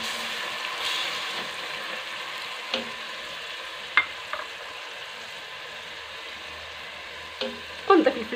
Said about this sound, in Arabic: صافي نشحروهم شويه، وغنزيد الصدر ديال الدجاج